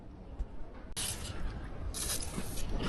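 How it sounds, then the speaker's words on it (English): An aerosol can sprays lubricant onto the chain of a MacDon combine header during a teardown. A faint mechanical tick comes first, then short hissing bursts close by, one near the start and another later, with no talking. "We'll spray lube on the chain."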